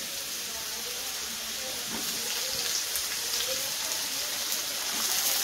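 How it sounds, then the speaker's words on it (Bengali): Chopped tomato drops into frying onions in a pan for an egg tadka, giving a steady close hiss of sizzling oil that grows a little louder toward the end, with no talk. "এখন আমি এর মধ্যে দেবো হচ্ছে টমেটো কুচিটা"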